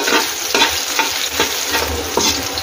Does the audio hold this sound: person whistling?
no